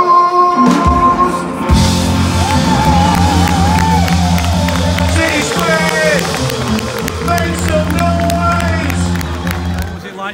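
A large football stadium crowd at a Manchester City home match sings and cheers loudly and continuously, a broad roar of massed voices with whoops and scattered clapping sustained throughout.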